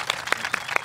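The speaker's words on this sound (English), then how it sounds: "I want you all to give him a big round of applause" A brief burst of a few sharp hand claps, close and uneven, over a murmur of a crowd.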